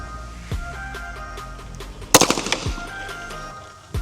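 Dark Forge Reaper 2011-style pistol fired outdoors while being zeroed, a few sharp cracks spaced apart, then a quick cluster of reports around the middle, with a persistent background hum.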